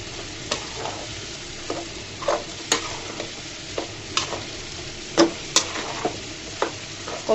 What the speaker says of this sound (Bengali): সুন্দর করে আমি নেড়ে চেড়ে দিচ্ছি।